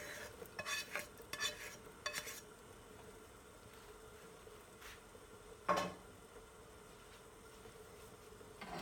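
Pinto beans with peppers and longaniza sausage are stirred in a pot, with several soft scraping strokes early on and one sharper knock later over a faint, steady background hum.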